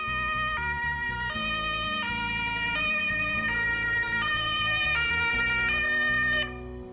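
An ambulance siren sounds as the vehicle arrives at an emergency: a loud, close two-tone wail alternating steadily between high and low pitches, alone without voices, cutting off at the end.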